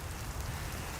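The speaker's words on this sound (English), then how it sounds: "it's just raining just enough to be annoying" Light outdoor rain patters softly and steadily, a faint even hiss of drizzle with no voices over it.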